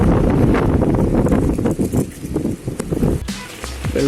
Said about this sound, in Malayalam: കുട്ടിക്കത്ത കാറ്റാണ്. എൻ്റെ ഫോണിപ്പോൾ പറഞ്ഞു അത്രയും കാറ്റടിയുണ്ട്.